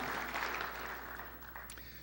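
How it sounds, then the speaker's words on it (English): An audience at a conference keynote claps in a steady, dense patter that gradually softens toward the end, with no voices over it. "Give them a round of applause because they're part of the groups that are going the extra mile."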